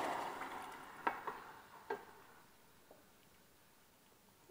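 Tomato paste fries in a pan while being stirred, a faint soft sizzle with a few light scraping clicks of the spoon against the pan.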